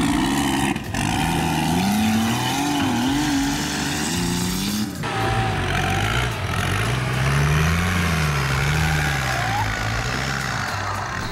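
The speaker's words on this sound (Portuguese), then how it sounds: "Os carros vindo do rio atravessavam a rua e seguiam o barranco acima." Off-road jeeps at a trail event in Chapecó, Brazil, cross a road and climb an embankment, their engines droning steadily and shifting pitch as they labour and rev, loud and continuous throughout.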